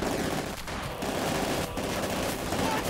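A German MG42 machine gun fires on a Company of Heroes 2 battlefield while covering a retreat. The rapid, dense bursts roll on continuously, with short breaks and other combat noise layered underneath.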